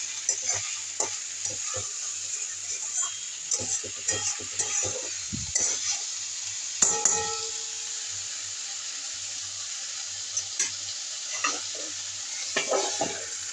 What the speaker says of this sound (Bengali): এবার একটু ভাজা ভাজা করি।